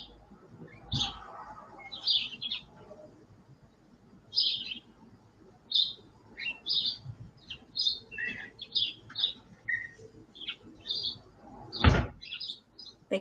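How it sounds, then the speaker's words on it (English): A door closing outdoors at night, a single sharp thud near the end, surrounded by repeated chirps and tweets from birds at moderate distance and a faint background hush. "They close the door."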